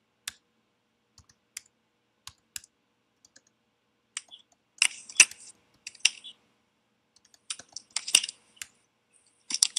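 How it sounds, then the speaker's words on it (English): Sparse, isolated clicks of keys on a computer keyboard, with a few short bursts of faster typing, close and fairly quiet in an otherwise silent room. "typing different text"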